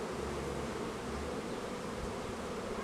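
Honeybees buzzing inside a hive of a medium-strength colony being inspected: a steady, dense, close drone that stays even throughout with no pauses or voices.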